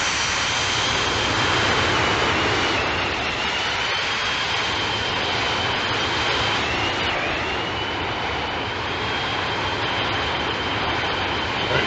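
Jet engines of a Boeing 737-200 in the X-Plane flight simulator give a steady, loud cockpit roar with a constant high whine, flying from Anchorage toward Kodiak, with no talking.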